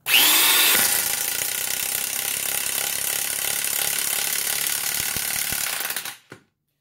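A Milwaukee cordless impact wrench runs in one loud sustained burst of rapid hammering and whirring for about six seconds, then winds down abruptly to silence.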